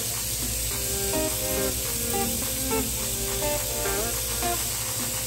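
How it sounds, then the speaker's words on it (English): Leeks sizzle in a couple of teaspoons of hot olive oil, a steady bright hiss that runs throughout under tonal background music. "So we have a couple of teaspoons of olive oil here heating up. And then add these leeks."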